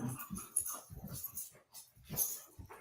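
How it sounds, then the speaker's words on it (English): A grumpy pet dog whimpers and whines softly at close range, with snuffly breathing between the faint, uneven cries in a quiet indoor room. "That's my grumpy doggy."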